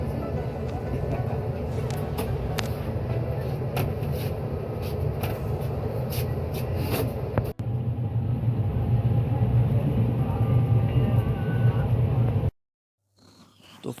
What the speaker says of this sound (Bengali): ট্রেন ছেড়ে দিয়েছে অলরেডি, আর অন টাইমেই ছেড়েছে